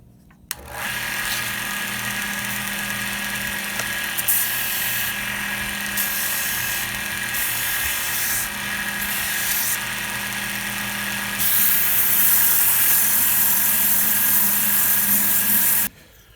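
A power sander works a green firewood billy club with 120 grit sandpaper, giving a steady, loud whirring hum that runs nearly unbroken for the whole stretch and rises slightly in intensity near the end.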